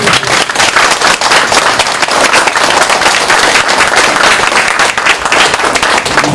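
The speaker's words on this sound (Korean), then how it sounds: "우리 한번 뜨거운 박수 좀 보내주시면 좋겠습니다." An audience at a talk concert in Busan gives loud, sustained applause. Dense clapping holds steady throughout, with no talk over it.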